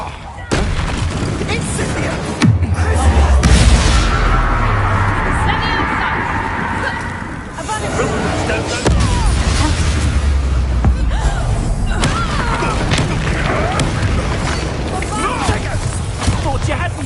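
Explosive Confringo spell blasts go off in a Hogwarts Legacy duel: heavy booming bursts over a dense, continuous wash of combat noise, with voices talking throughout.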